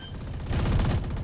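Rapid gunfire from the tactical shooter Valorant, a dense burst of close, loud shots for about a second.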